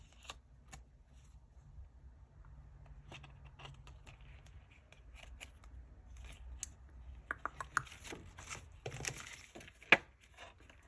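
Scissors trimming handmade paper tabbed dividers, a scattering of quiet sharp snips and paper rustles over a faint background hum, growing busier toward the end.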